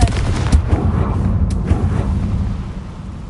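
A Confringo blasting spell goes off in Hogwarts Legacy with loud, booming blasts and crackling bursts over a deep rumble that gradually fades.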